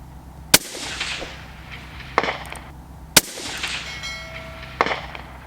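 Precision rifle fired at a freshly painted steel target outdoors, two sharp loud cracks about two and a half seconds apart, each followed by a rolling echo and fainter distant impacts.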